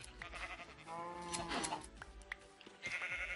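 Sheep bleat in a survival video game set underground, several wavering bleats overlapping faintly and steadily, with no talk over them.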